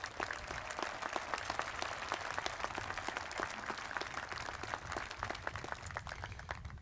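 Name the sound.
audience applause at college commencement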